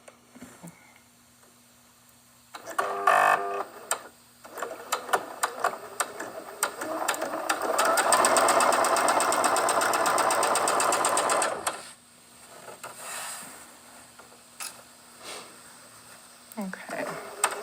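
Sewing machine chain piecing heart quilt blocks, stitching in quick bursts and then a long steady run of rapid needle clatter, with people talking at times over the hum.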